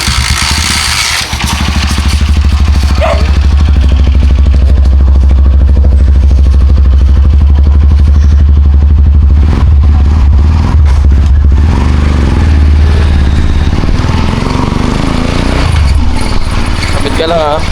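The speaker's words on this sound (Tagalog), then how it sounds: "Pasok po muna namin tong motor na ito." Motorcycle being moved indoors, with a loud low engine rumble running throughout, clatter and scraping layered over it, and voices talking nearby.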